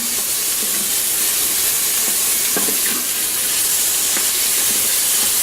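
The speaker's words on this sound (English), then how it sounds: "I really like the way this is sauteing." Mushrooms saute in a hot Instant Pot, giving a loud, steady sizzling hiss that runs unbroken throughout, heard up close with no voices.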